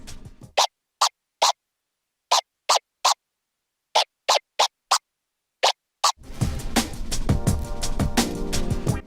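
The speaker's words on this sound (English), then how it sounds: "I'll teach you how to do the stab scratch" Short sharp stab scratches cut on a DJ controller jog wheel, a dozen crisp isolated bursts in uneven groups separated by silence, then a dense stretch of scratching over a music track.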